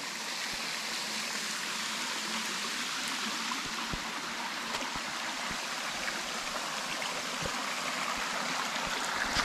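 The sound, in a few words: stream water flowing down from hill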